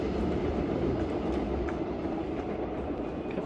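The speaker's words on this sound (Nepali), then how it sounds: "अगाडि ट्रेन गयो त्यहाँबाट फेरि सुवनतर्फ ट्रेनको अघि बढ्यो" A train rumbles past, a steady low rolling rumble with faint rhythmic clatter, moderately loud and continuous with no talk.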